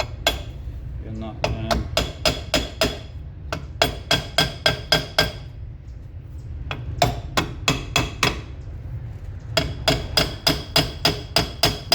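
A hammer taps on the rear brake drum of a Triumph Spitfire in sharp metallic bursts of rapid strikes separated by short pauses, close and ringing, with no talking.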